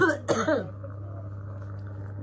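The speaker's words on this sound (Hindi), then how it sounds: "देखो आराम से खांसी है ना" A single sharp cough near the start, followed by a quiet steady hum with faint background noise.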